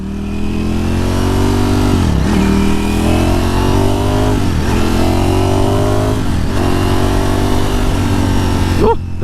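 A motorcycle engine runs loud and close at a steady growl, with several quick throttle blips and revs rising and falling across the clip. A voice comes through faintly under the engine.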